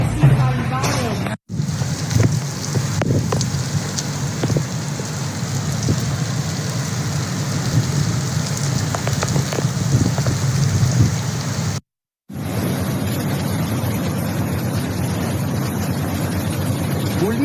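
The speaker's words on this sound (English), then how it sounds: "Alta Gracia faced torrential rain and stone showers" Torrential rain pours in a steady, loud hiss with scattered drops and splashes, briefly cut off twice by silent gaps.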